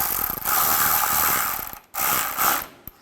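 A ratchet snugging down a plastic nut during AC condenser work on a 2007-2013 Mini Cooper, rapid close clicking in two bursts separated by a short pause, ending with a faint final click.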